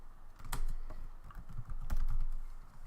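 Keystrokes on a computer keyboard as a chmod command is entered in a Linux terminal, a few irregular clicks and taps with two sharper strikes, close and fairly quiet with no talking.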